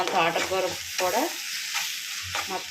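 Egg and amaranth leaves sizzling in a frying pan as they are stirred and spread, with scraping strokes over a steady close fry.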